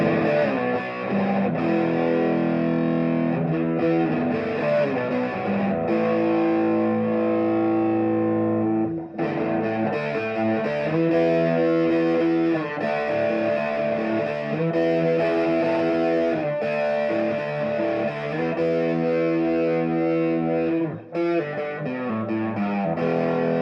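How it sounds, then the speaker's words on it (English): Michael Kelly MK 1955 electric guitar in the middle pickup position with coil splits off, played through a distortion pedal driving the amp; loud, sustained overdriven chords and riffs ring continuously with brief gaps, no talking. "I'm gonna hit this distortion pedal."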